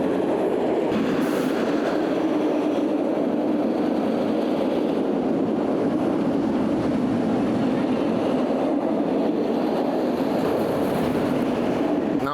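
KUMBA, a steel roller coaster at Busch Gardens Tampa, sends a train along its track in a steady, full rumble with rattling wheels, loud and unbroken for about twelve seconds with no talk.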